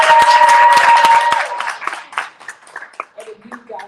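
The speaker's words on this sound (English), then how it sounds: "So let's give Nicole a round of applause." A burst of audience applause and clapping, loud at first and then thinning out into scattered claps as a voice begins speaking.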